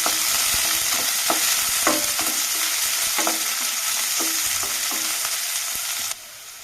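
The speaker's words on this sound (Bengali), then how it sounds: "দিলাম পেঁয়াজ কুচি অল্প সামান্য কাঁচা লঙ্কা ভালো করে নাড়িয়ে নেব" Chopped onion and green chili frying in a pan, a continuous close sizzle broken by repeated scraping knocks of a stirring spoon at an uneven rhythm, before the sizzle drops away near the end.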